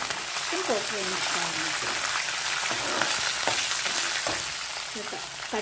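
Green chilli and ginger pieces frying in oil alongside chana dal, urad dal, curry leaves and dried red chillies for pulihora, giving a steady close sizzle with a voice speaking over it.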